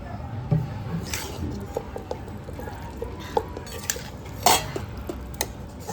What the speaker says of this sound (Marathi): हालते नुसती कढई.